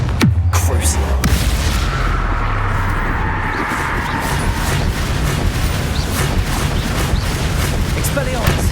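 Confringo blasting-spell explosions in the Hogwarts Legacy video game, dense booming bursts over a constant loud roar of combat noise with a sharp swoosh at the start.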